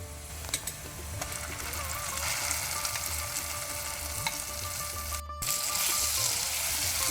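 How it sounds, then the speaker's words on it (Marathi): Oil sizzles steadily in a pan while ingredients fry for a Mangalorean silver perch dish with raw mango, a continuous close crackling hiss broken by light stirring and a brief dropout, without speech. "आतां ह्या तेलांत बरें करून भाजून काडया."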